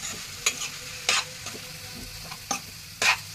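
Chicken momo filling with turmeric, coriander and spices cooking in a pan, with a spoon scraping and stirring in several distinct bursts over a low steady sizzle, close and clear with no voices.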